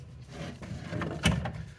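A lever is flipped and a door slides upward, giving a low rumbling scrape with one sharp clack near the end, fairly close and with no talk over it.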